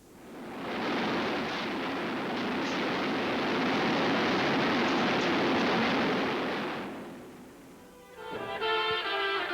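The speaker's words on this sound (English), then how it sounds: "he pushes his consent button, and the gun will go off" Cannon fire from an AC-130 Spectre gunship aircraft at night, a long continuous roaring burst lasting several seconds, loud and rumbling, that fades out and is followed by a brief tonal, mechanical whine.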